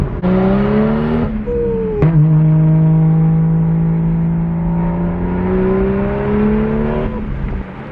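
A BMW 335i engine accelerating hard, its loud, sustained harmonic note climbing steadily through the revs with a sharp break for a gear change early on, then pulling strongly again without any talk.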